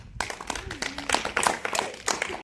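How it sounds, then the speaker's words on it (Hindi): Children clap together for a classmate named Dinesh during a classroom spelling game, a short burst of scattered, uneven claps close by with some voices mixed in. "ताली बजाओ दिनेश के लिए"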